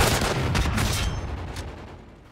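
A rapid stream of gunfire from a secondary weapon in Call of Duty Ghosts rattles loudly for about a second, then fades into a decaying echo.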